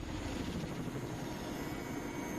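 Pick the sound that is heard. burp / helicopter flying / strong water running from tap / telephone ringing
helicopter flying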